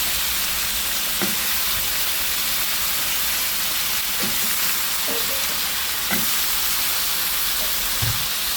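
Eggplant frying in a pan with chili paste for stir-fried pork head, a steady close sizzle with a few soft clinks and stirring knocks scattered throughout.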